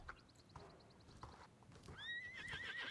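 Horses in the video game Star Stable Online: a run of hoof clip-clops and snorts, then a loud, high whinny rising near the end, with no talk.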